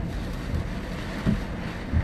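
Hurricane-force wind gusts buffet a car, giving a broad roaring rush with a few low thumping surges as the gusts hit.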